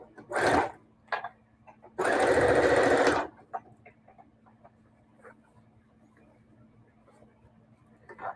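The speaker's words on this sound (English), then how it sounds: "just sewing straight across that seam I just made" A sewing machine stitching across a seam of a cloth bag, a short burst then a sustained one-second run of close whirring, with soft handling clicks and quiet gaps after.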